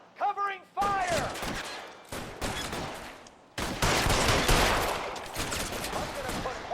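Covering gunfire in L.A. Noire comes in loud, clustered bursts of shots separated by short silences, with a shouted voice at the very start.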